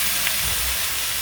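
Pork ribs sauté with ginger and onion in a hot pan, giving a steady, loud sizzling hiss throughout with no talk.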